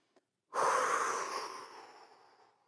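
After a tiny tick, one long, close, breathy exhale swells loudly and slowly trails off during a home workout exercise, with no talking.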